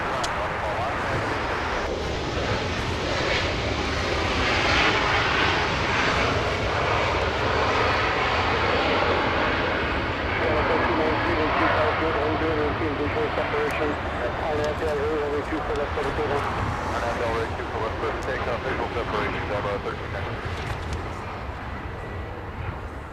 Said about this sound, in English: Delta Airlines departing right now.